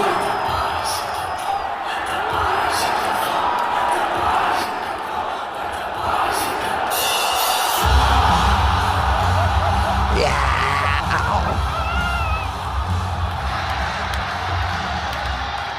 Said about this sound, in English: Fucking crowd erupted, as you could hear there.